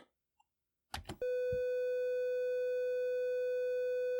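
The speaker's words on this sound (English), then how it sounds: "all that just so you can actually hear that triangle waveform" Triangle waveform tone from a Commodore 64 SID chip, a steady pure hum with faint harmonics that starts abruptly after a few clicks and holds unchanging for about three seconds.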